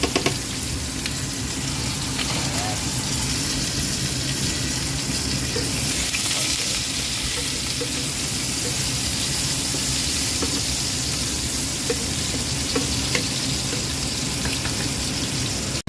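Garlic, ginger and onion sauté in hot oil, a dense, even sizzle with light stirring running steadily at close range, with no one speaking.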